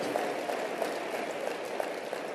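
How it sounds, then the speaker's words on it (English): Dense, continuous clapping from a crowd, a steady patter of many hands with no break. "Give yourselves a round of applause for giving people another shot,"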